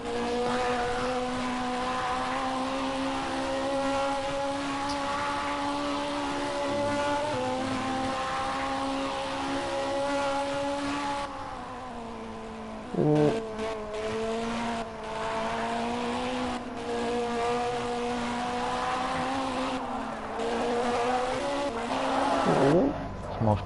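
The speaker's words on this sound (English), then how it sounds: "There was a car going full speed through the pits." Race car engine in a racing game at Spa-Francorchamps, a steady high whine that rises and falls through the pits, a sharp whoosh of a car passing at full speed near the end, with commentators talking over it.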